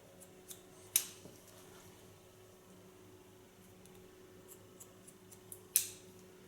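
Two crisp scissor snips, spaced a few seconds apart, ring out while short hair is cut into a pixie style, with faint clicks between them over a quiet room hum.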